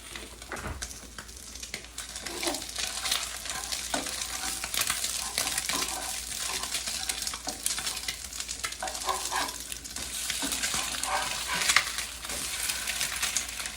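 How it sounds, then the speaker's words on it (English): Eggs frying in a pan for breakfast, a steady close sizzle and crackle running throughout with occasional light scraping, no voices over it. "you can see the eggs are starting to get done, so we'll flip them"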